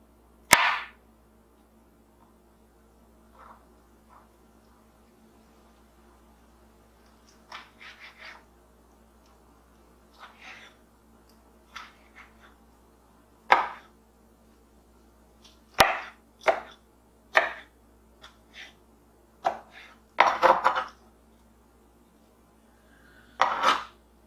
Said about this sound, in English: just gonna chop